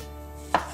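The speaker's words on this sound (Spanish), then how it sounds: "Y ahora vamos a cortar primero los champiñones." A single sharp knife chop through mushrooms on a cutting board while preparing a pizza topping, one crisp close strike over a quiet steady background hum.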